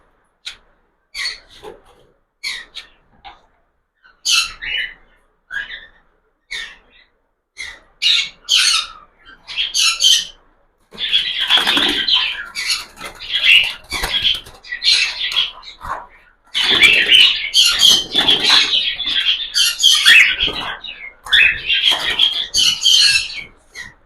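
Cockatiels squawk in harsh bursts, sparse and spaced at first, then crowding into near-continuous shrill screeching with rustling wingbeats, loud and close.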